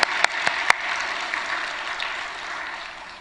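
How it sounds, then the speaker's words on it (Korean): In a church at dawn prayer, the congregation applauds the kindergarten department, opening with a few crisp, loud claps before settling into a steady wash of clapping that slowly fades toward the end. "당당한 유치부. 박수!"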